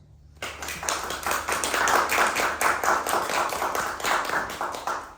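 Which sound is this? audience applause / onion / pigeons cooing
audience applause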